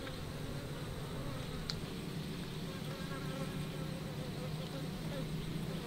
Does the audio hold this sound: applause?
no